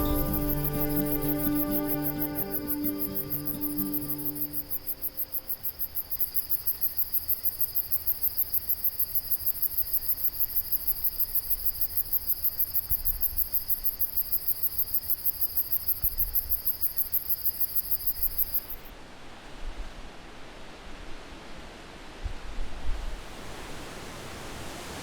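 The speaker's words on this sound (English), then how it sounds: "with the sound of crickets filling the pleasant evening air" Steady, dense evening cricket chirping in the Quebec countryside fills the quiet for most of the clip, a continuous high trill that cuts off near the end, leaving faint ambient noise.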